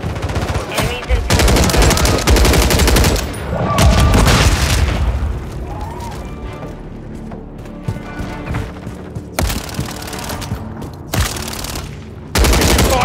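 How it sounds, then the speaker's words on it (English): Heavy automatic gunfire from Call of Duty Modern Warfare 3 Horde Point on the Terminal map, loud bursts of machine-gun and rifle fire with booms, coming in dense waves with short lulls. "Taking fire over here."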